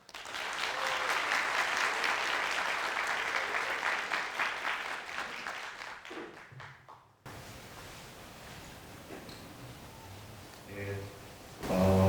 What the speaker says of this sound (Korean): 힘찬 박수 한번 해주시면 감사하겠습니다